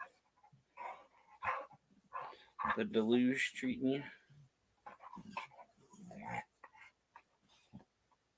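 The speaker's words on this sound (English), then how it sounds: "Now your dog's barking." A small pocket-sized dog barks and whimpers in short yips and whines beneath people talking at an open mic comedy show.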